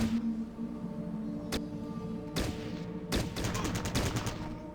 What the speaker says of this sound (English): you don't have to worry about the sound made by your gunfire